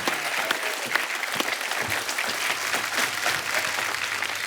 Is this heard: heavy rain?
no